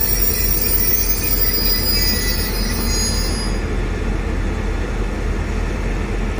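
A heavy freight train hauled by two diesel locomotives rolls past at close range at Kaeng Khoi Junction, a loud steady rumble of engines and wagons with high metallic squealing from the wheels that fades partway through.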